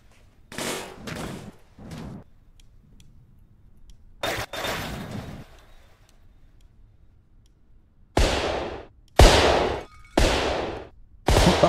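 Sharp, loud video game rifle gunshots ring out in scattered bursts: a couple early, one in the middle, then four quick shots near the end, each with a short decay.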